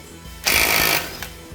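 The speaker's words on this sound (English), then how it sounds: "I'll just get the rattle gun straight onto that" A pneumatic rattle gun hammers on the 32 mm drive shaft nut of a 2006-2012 Mitsubishi ZH Outlander, one loud, close burst of about half a second followed by a brief second tap.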